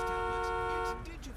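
A car horn gives one long steady honk lasting about a second, close and clear, then cuts off to quiet background noise.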